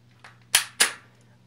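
Airsoft gun firing outdoors: a faint click followed by two sharp, close snapping shots in quick succession, each decaying briefly, with a low steady hum beneath.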